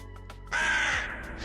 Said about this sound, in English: Oh, what sound was that? That's the Raven.